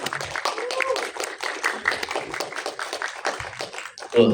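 Audience applause at a film press conference for the cast of Gundik at Epicentrum, a dense spread of clapping running steadily throughout with voices and crowd noise mixed in.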